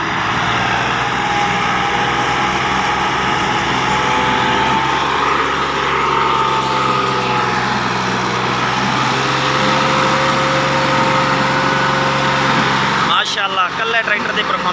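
A tractor engine pulling a loaded 16-foot trailer drones steadily under strain throughout, loud and close, with a rumbling low hum and a brief clatter near the end.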